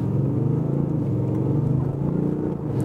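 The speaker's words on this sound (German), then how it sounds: "wir stellen einfach mal in Dynamic. Was passiert jetzt? Klar, wir haben ein bisschen härtere Federn. Wir sind direkter am Gas und jetzt gebe ich einfach mal Gas hier drin" A 2019 Audi S7 Sportback with 349 PS, set to Dynamic mode and driven in the Rheingau, produces a steady, loud, low engine rumble heard from inside the cabin, continuous throughout without talk.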